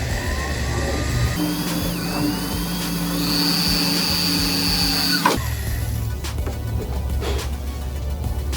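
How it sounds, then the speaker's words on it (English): A power drill bores a hole for a wicker bill on a 2015-or-later Dodge Charger, whining steadily at a changing pitch for several seconds before it stops abruptly, followed by rattling handling noise. "Give it a little bit of a push. Try to get it in there a little bit, and then slowly start drilling."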